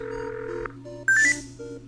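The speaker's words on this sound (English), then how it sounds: "I'm gonna call Hye-sung even though he's standing right in front of my face" Phone call being dialed in the video game Buried Stars, steady synthetic tones followed by a short burst of bright dial beeps and a brief chime, clean and close.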